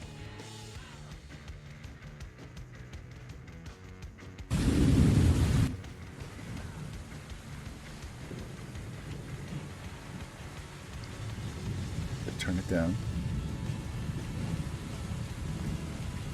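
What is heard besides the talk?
rain and thunder background ambience effect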